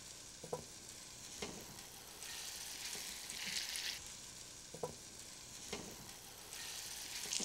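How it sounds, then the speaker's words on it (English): Pork meat laid into a very hot, smoking pan sears with a steady, faint sizzle, with a few sharper crackling bursts standing out over the hiss. "Okay, pork goes in."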